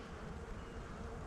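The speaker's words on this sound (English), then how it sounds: "Already got some bees checking me out" Bees buzz around a beekeeper at an open hive, a faint continuous drone that holds steady without breaks. The hum is low and soft, and no one speaks.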